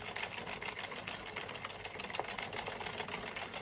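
An Addi 46-needle knitting machine cranked through a row of straight knitting, a steady fast rattling, clattering mechanical rhythm that is close and continuous.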